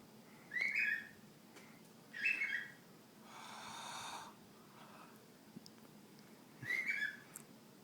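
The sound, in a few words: pet bird whistling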